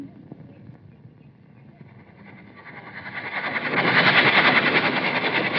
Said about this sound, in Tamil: ரயில் வர சத்தம் கேக்குது, ஆனா வண்டியை காணோம்.